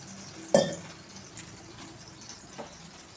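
A sudden sharp hiss as water hits a hot dosa griddle, fading quickly into a faint, quiet sizzle with a small splash later.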